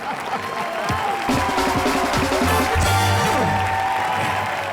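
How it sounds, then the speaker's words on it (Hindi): Sustained applause from an audience, dense clapping that swells and continues steadily with faint crowd noise underneath. "जोरदार तालियों से स्वागत कीजिए।"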